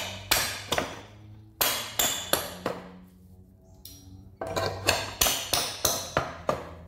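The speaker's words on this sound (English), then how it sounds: "all you have to do again is just pull them out with a claw hammer," A claw hammer works nails out of wooden pallet rails, striking in two bursts of sharp, ringing metallic taps with a brief quiet gap between them, close and clear.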